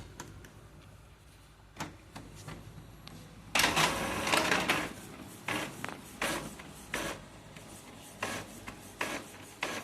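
An office printer runs a photocopy of an Aadhaar card. A quiet mechanical hum and a few clicks give way to louder bursts of feeding and scanning noise, with repeated rasping pulses of paper moving through the machine.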